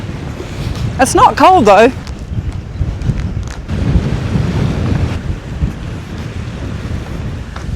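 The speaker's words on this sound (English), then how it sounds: "Jeez, the wind." Strong wind buffets the microphone on a long timber pier over the sea, a steady rumbling roar running throughout, with a voice speaking briefly near the start.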